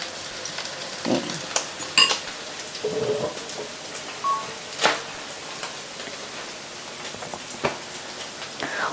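Basil omelette frying in hot oil at a steady temperature, a continuous close sizzle with soft spattering and a few louder pops and scrapes, no talking.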